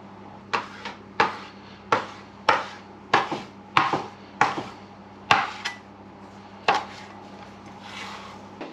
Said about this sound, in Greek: Σε μικρά κομματάκια το κόβουμε.